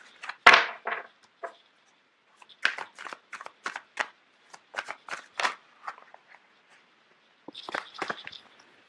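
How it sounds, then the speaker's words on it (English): Tarot cards shuffled by hand in bursts of riffling and flicking, with a sharp slap near the start as cards pop loose, then irregular clusters of papery snaps separated by short quiet gaps, close and clear. "You have a lot of cards that are just popping out all over the place."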